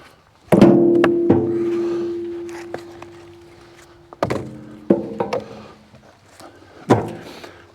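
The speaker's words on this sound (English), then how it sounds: "I'm going to split a couple pieces of the bigger pieces" Bigger pieces of firewood being split, several loud close thunks spaced a second or two apart, each with a short woody crack and ringing decay, no talking.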